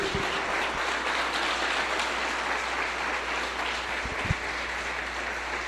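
A church congregation applauds together in a steady, dense roar of clapping that holds loud and even throughout, with a faint low hum beneath and a couple of brief knocks.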